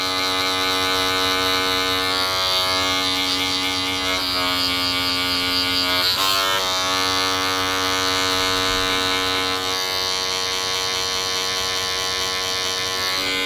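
Barber's electric hair clippers run continuously with a steady loud buzz while cutting a first-time haircut, the drone dipping and shifting slightly as the blades move through hair, close and with no voices.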